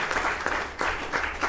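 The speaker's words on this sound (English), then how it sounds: "let's give a rousing clap offering to the best Father in the world" A church congregation at a Father's Day worship service claps together in a dense, steady round of applause that fills the room, loud and continuous throughout.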